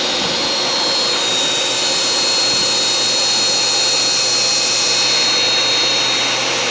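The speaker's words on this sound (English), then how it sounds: "We're going to turn the spindle on. Spindle is on." A ShopBot CNC router spindle runs at speed with a loud, steady, high-pitched whine and a broad airy hiss that holds constant throughout, close up, with no voices.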